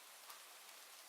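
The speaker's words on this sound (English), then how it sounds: "I put in some raining noise because I love that sound" Soft, steady rain ambience for a virtual coffee shop scene, a faint continuous hiss of falling drops with no talk over it.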